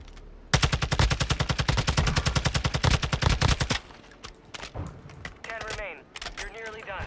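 Pistols fire in a Warzone 2 video game match, a rapid, loud stream of about thirty evenly spaced shots lasting a few seconds, then quieter scattered noise with a voice talking.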